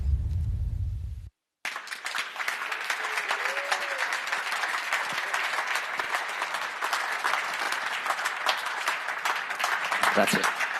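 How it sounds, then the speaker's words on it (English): Audience applause at the 2019 Mission Winnow Ducati MotoGP team bike presentation: after a brief low rumble and a short silence, a large crowd claps steadily and continuously, with faint voices and a whistle mixed in. "Well, I'm glad we got a round of applause, first of all."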